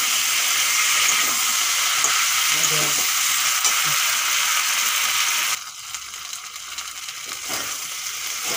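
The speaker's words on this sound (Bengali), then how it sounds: "আদা দেওয়ার পরে 5-7 মিনিট ভেজে নিয়েছি।" Ginger paste fries in a pan for a mixed vegetable curry with a loud, steady hiss and sizzle that suddenly drops to a softer crackle partway through, close up and with no talk over it.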